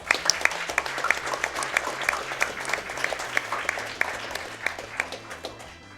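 Steady applause from an audience at a speedrunning event, many hands clapping together at a moderate volume throughout.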